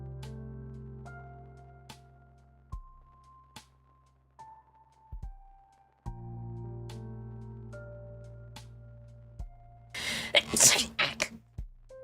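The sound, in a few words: sneeze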